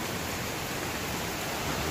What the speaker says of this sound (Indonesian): Ini hujannya deras banget teman-teman, ditambah angin ya.